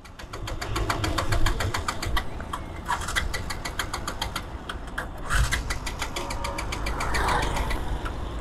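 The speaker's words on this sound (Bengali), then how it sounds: "তো দেখতে পাচ্ছেন বাইক আর স্টার্ট নিচ্ছে না" A Bajaj Pulsar 150 SD motorcycle engine is cranked but fails to start, its carburettor nearly out of fuel. A loud, rapid, steady mechanical ticking runs through the whole stretch with no voices.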